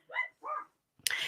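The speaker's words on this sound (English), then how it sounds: "I'm sorry about the dogs barking" Two quick dog barks come close together from nearby, then a burst of noise cuts in. The barking is fairly loud against an otherwise quiet backdrop.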